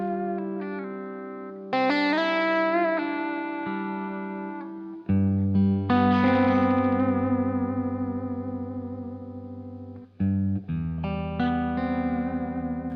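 A Reverend Jetstream 390 electric guitar with a Korina body rings out through effects pedals, with sustained distorted chords and chorus-washed notes. Phrases restart in steady passages, and there is no talking.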